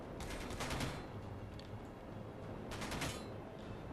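Hostile turret firing in Space Engineers, with bursts of rapid gunfire in a fusillade at the start and again near the end, steady over a constant background rumble.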